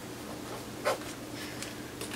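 A pen scratches faintly across a post-it note in a few short, soft strokes, close and quiet, with a small tap partway through.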